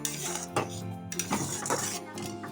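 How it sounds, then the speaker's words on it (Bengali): Chickpea dal powder is stirred into boiling sugar syrup for laddus, with a spoon scraping and clinking against the pot in several short, close strokes. "অল্প অল্প করে আমি দিয়ে দিচ্ছি, দিয়ে বেশ ভালো করে নাড়তে হবে।"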